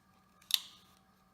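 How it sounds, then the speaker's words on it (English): Ganzo G751 Firebird folding knife blade flicked open, a single quick sharp snap in otherwise quiet surroundings. "So you could open this in like a flick."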